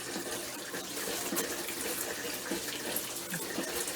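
Water runs steadily from a camper shower, splashing onto the floor and rinsing bugs down the drain, a continuous broadband hiss close to the listener.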